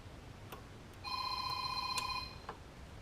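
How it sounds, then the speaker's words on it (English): A telephone rings in a car repair garage during an AC compressor job on a Chevy Suburban, two short electronic trills standing out clearly over faint background hiss. "Phone won't ring all day, and then when I start doing a job like this, especially when I'm recording, that's when everybody wants to call"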